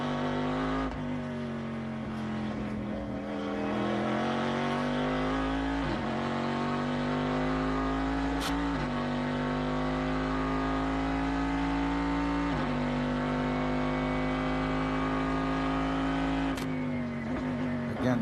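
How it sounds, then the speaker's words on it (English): A V8 race car at the 2008 Sebring 12 Hours endurance race, its deep, sustained engine note rising and dipping in pitch as it runs down the track, continuous and loud throughout. "now it is back out, and it is a glorious sound indeed. Listen to that V8. That's that old thumper V8 going on down there."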